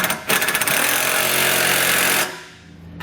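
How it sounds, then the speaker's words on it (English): Power tool or impact-style socket driver running hard on trailer hitch bolts of a 2016 Nissan Rogue, using a 3/4 inch or 19mm socket; a loud continuous buzzing burst of about two seconds, close by, then stopping. "I'm going to come back with a 3/4 inch socket, or you can use a 19mm socket,"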